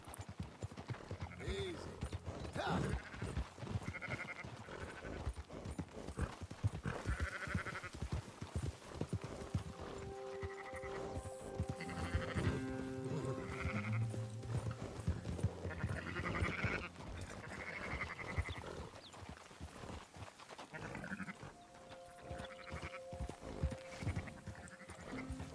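Sheep and goats on a farm in Red Dead Redemption 2 give scattered bleats among clip-clopping horse hooves, with someone talking over much of it.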